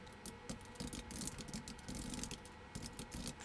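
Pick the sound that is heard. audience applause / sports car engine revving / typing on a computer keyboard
typing on a computer keyboard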